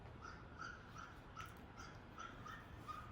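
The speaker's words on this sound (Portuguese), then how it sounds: "Agora eu tô com uma briga de cachorro aqui na frente do meu prédio aqui." Dogs fighting out in front of an apartment building, heard as faint, distant yelps and whimpering barks that repeat over a steady background hum.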